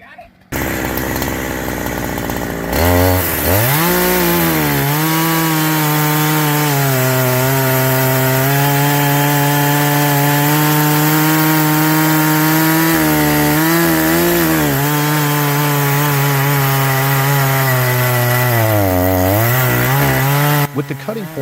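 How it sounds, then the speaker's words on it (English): A chainsaw saws down through a whole log and bucks the tree, its engine screaming at a steady high pitch through a long continuous cut. The whine dips and rises with load, loud and close, after a brief quiet start. "the chainsaw descends swiftly"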